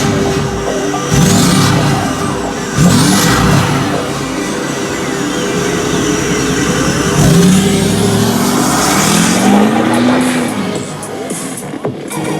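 A 2008 Ford F-250 Lariat with a 6.4 Powerstroke diesel, tuned and fitted with a 5-inch straight pipe, takes off while rolling coal. Loud, close, rising engine roar with repeated revving surges and turbo whistle.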